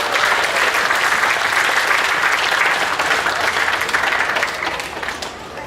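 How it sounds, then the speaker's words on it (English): An audience at the 2018 John C Fremont Days event gives a big round of applause, a dense, sustained clapping crowd that holds steady and tapers slightly at the end. "Give a big round of applause,"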